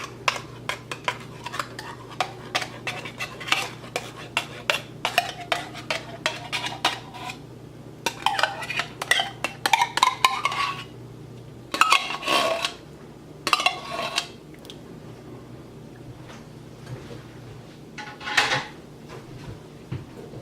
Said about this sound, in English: And then you're just going to mix that together.